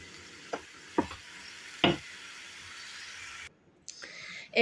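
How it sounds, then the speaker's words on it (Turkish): Zucchini slices fry in a pan for a baked minced-meat stuffed zucchini dish, a faint steady sizzle broken by a few soft stirring scrapes and a brief moment of near silence. "Kabaklarım kızarıyor, iç harcım oluyor."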